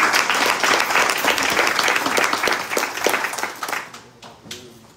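Church congregation applauding during a Sunday worship service in New York, dense steady clapping that thins and fades out over the last second or so.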